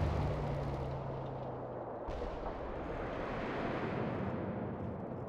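A tank gun fires in the real-time strategy game WWA RTS, a loud booming blast followed by a long rumbling roar of battle noise that fills the clip.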